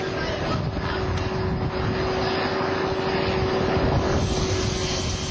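A steady, loud helicopter engine drone with a constant whirring hum, unchanging throughout and with no talking, over the sea off Australia.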